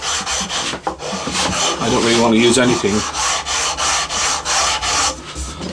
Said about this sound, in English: A sanding block is actually enough.